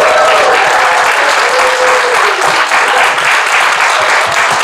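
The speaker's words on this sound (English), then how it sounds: "Let's give a nice round of applause for Tom Laune, Mike Pane, Chad Segura, and Z" Live audience at a music industry bootcamp gives a dense, continuous round of applause, loud and close throughout with no talking.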